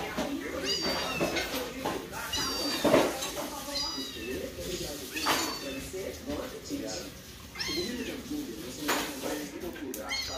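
Kittens meow repeatedly in high, thin cries, close by, while a person talks and dishes clatter faintly in the background.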